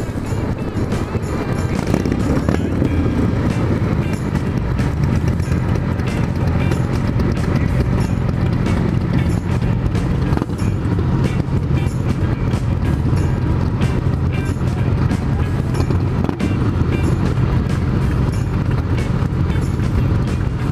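A motorcycle with a loud roaring exhaust pipe rides steadily, its dense engine drone and constant wind rush filling the whole stretch with no talk.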